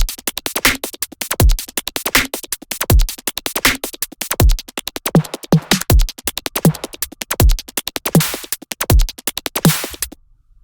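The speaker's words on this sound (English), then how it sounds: "So everything in context, all the drums together, sound like this" An electronic drum loop from an FL Studio beat with hi-hats, snare, open hi-hat and a short zap effect, playing a steady, punchy groove with booming low kicks and crisp ticking hats for about ten seconds before stopping.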